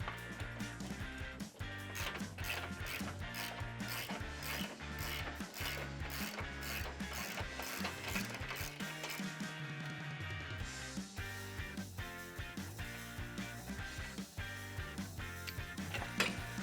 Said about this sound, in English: I'm gonna switch over to a 1/2" ratchet and finish the job